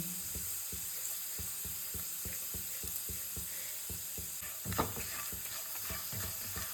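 Spices and bread pakora filling frying in a pan: a quiet steady sizzle with evenly spaced scraping clicks from stirring and one sharper knock near the end.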